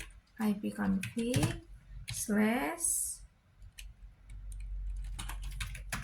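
Someone types the ipconfig /registerdns command on a computer keyboard, a run of quick key clicks following a stretch of speech, the clicks close and light and growing denser toward the end.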